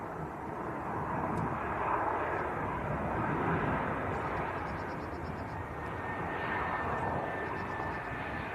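Ryanair airliner on a flight from Alicante at Leeds Bradford Airport, its jet engines producing a steady, broad roar that holds for the whole stretch, moderately distant with no break.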